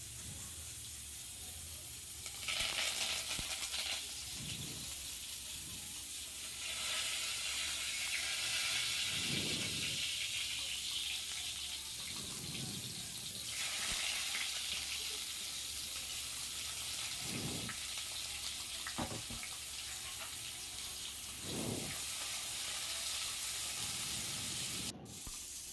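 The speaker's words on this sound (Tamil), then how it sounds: "சோம்பு நல்லா பொரிஞ்சதும் நம்ம எடுத்து வச்சுருக்க வெங்காயமும் கருவேப்பிலையும் அதில் சேர்த்துடலாம்" Onions and curry leaves frying in hot oil with fennel seeds for a goat head curry, a steady close sizzle and hiss with occasional soft stirring thuds, no talking.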